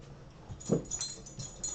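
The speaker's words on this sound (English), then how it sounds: "dog's going crazy back there" A dog whimpering and giving a short muffled bark somewhere in the background, faint and brief yips over low room noise.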